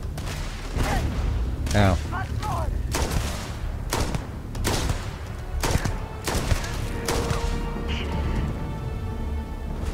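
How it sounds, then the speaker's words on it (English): Gunfire in the sci-fi video game Starfield rings out in repeated sharp bursts and volleys, loud and close, scattered across the whole stretch while players talk and shout over it. "Where are you shooting at?"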